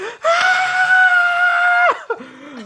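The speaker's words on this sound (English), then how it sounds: "I'm just gonna scream" A person lets out a long, loud, high-pitched scream of fright that holds steady for over a second before breaking off, followed by a short whimpering sound.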